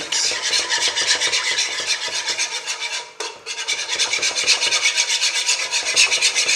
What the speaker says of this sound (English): It's very important to use the wire whisk, because otherwise you cannot mix this sauce completely.